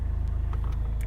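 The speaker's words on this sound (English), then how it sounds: "handbrake off, and we're moving." A Renault Laguna Coupe with the 2.0 dCi 180 bhp M9R diesel and automatic gearbox pulls away from rest, a loud steady low engine rumble close by with faint ticks above it.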